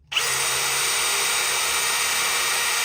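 A power drill runs at full throttle into a center-punched, oiled spot on metal, starting abruptly and then holding a loud, steady, high whine alone for nearly three seconds.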